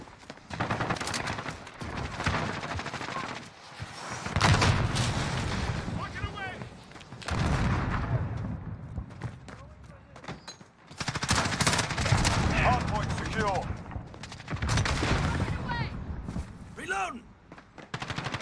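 Gunfire in the video game Call of Duty Modern Warfare 2, with bursts of automatic and single shots coming in waves with short gaps, loud and close, while voices speak over the action.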